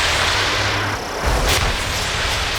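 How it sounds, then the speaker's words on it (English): A missile launches from a fighter jet in the Ace Combat 7 video game, a deep booming rush over steady engine roar, with a sharp bright burst midway and rumbling low thumps after. "Missile away."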